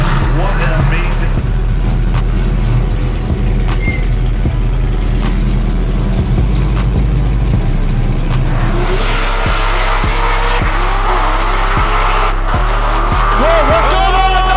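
Drift cars slide through a corner at a Klutch Kickers drift series event, engines roaring loudly with long tire squeals and pulsing revs close by. A commentator talks over the cars throughout.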